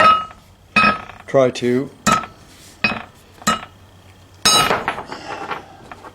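A hammer repeatedly strikes a metal piece being shaped round, giving bright, ringing clanks at irregular intervals, loud and close, with someone speaking briefly between the blows.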